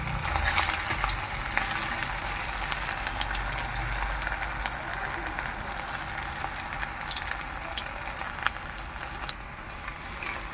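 Cauliflower pakoras frying in hot oil, a continuous crackling sizzle with bubbling and occasional clicks as the pieces are turned, close and steady throughout with no voices.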